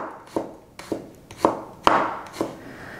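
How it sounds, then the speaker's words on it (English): A knife cuts thinly through garlic cloves on a board in about six crisp, evenly spaced chops, each one close and clear with nothing else around it. "I will slice them really thinly."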